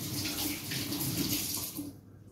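A kitchen tap runs in a steady gushing stream as pork is washed for tapa, close and continuous before easing off slightly at the very end.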